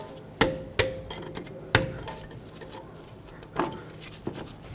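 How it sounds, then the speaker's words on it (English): A trim tool popping ABS wire clips off the upper control arm of a 2003-2012 Chevrolet Colorado 4x4, heard as several sharp plastic snaps and clicks spaced irregularly over a faint background, close up, no voices. "Using a trim tool, let's remove the ABS wire off of this upper control arm. Just pop the clips off."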